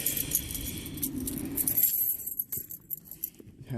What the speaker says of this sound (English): That's the part where I find the keys.